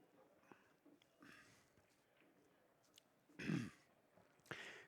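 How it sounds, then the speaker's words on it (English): Two short, harsh coughs stand out near the end, one louder burst followed by a smaller one, over a quiet room with faint background murmur. "My little cough is acting up."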